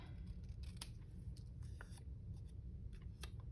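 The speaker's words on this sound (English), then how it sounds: "Oh, I can't cut straight." Scissors cut paper for a handmade junk journal page: a few soft, crisp snips over a steady low background hum, with no talking.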